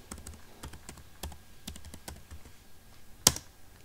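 A computer keyboard being typed on while entering a MongoDB shell command: a quick run of close, light key clicks ending in one sharper, louder keystroke, with no speech.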